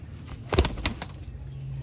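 Pigeons from a group of flying and breeder birds beat their wings in a few quick, close bursts, with soft cooing and a low steady background hum in between.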